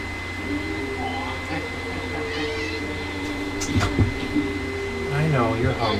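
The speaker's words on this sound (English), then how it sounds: "My cat just came upstairs." A pet tabby cat meows a few times indoors, fairly close, over a steady air-conditioning-like hum with faint background noise.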